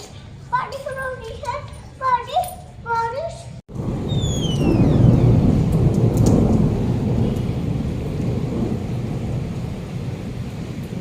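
Heavy unseasonal downpour with thunder, a steady loud roar of rain that sets in abruptly after a few seconds of children's voices and keeps going to the end.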